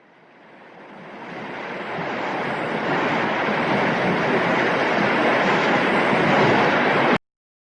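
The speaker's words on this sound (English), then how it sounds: "Ship." A ship at sea makes a broad, steady rushing wash of water and wind, fading in at the start, holding loud and even, then cutting off abruptly.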